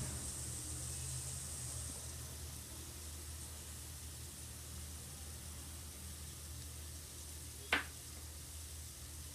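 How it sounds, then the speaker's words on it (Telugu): Vegetables frying in a pan for veg noodles give a steady, quiet broadband sizzle that holds evenly throughout, with a single brief sharp clink near the end. "ఫైవ్ మినిట్స్ పాటు మనం వెజిటేబుల్స్ని ఫ్రై చేసుకున్నాం కదా"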